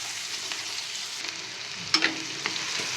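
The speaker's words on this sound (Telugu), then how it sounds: "ఫస్ట్ ఆనియన్స్ వేసుకోవాలి." Onions fry in oil and butter for pav bhaji with a soft, steady sizzle, broken by a few sharper crackles and stirring clicks.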